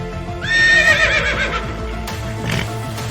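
A horse gives a loud, close whinny that rises and then trails off, with hoof clip-clops and a low rumbling background underneath.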